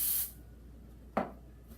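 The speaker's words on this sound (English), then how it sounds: "Give it a nice coating of the spray." A short, near hiss of Pam cooking spray coating a baking pan for banana nut bread, a burst at the start and a second brief spritz a moment later, in a quiet kitchen.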